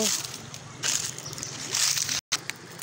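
Water sloshes and splashes steadily at the leaf-strewn edge of a village spring, close up, with a soft noisy wash throughout.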